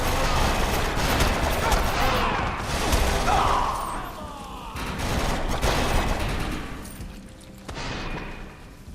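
Rapid bursts of blaster gunfire and explosive thuds from the video game Star Wars Battlefront II, dense and continuous with short lulls, a loud close firefight.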